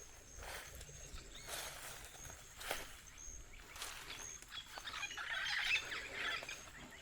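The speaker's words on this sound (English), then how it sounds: "Some birds in the bushes." Birds calling from bushes at Mon Repos, Guyana, with a few faint, scattered chirps and calls over quiet outdoor ambience and soft footsteps, and a brighter burst of chirping near the end.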